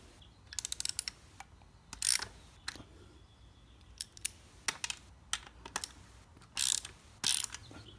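Metal valve-train parts on a Stihl 4-Mix trimmer engine being loosened by hand tools, with close, sharp ratcheting clicks and mechanical rattles in irregular bursts and short clusters, alone without talk.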